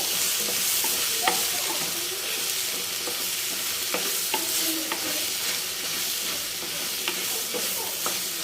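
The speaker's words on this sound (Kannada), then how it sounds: "ಎಣ್ಣೆನಲ್ಲಿ ನೀಟಾಗಿ ಟೊಮೊಟೊನು ಹುರ್ಕೋಬೇಕಾಗುತ್ತೆ" Tomatoes, a juicy jamun variety, stir-fried in oil in a village kitchen until soft for a spicy tomato curry, giving a steady close sizzle broken by scraping stirs of the spoon throughout.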